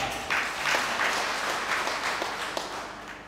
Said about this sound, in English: Give them a big hand clap.